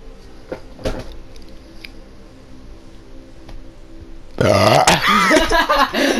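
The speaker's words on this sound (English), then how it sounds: "That was the loudest fucking burp in my face I've ever heard." A loud, long burp erupts close by after several seconds of quieter room noise and a few knocks, rumbling and warbling until the end.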